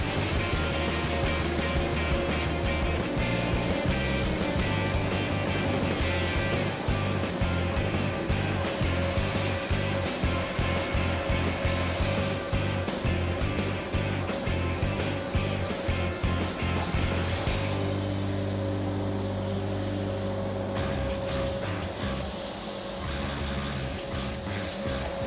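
Spray gun lays Viper Red paint onto a car body, a continuous loud hiss of spraying with rhythmic pulses as passes are made across the panels.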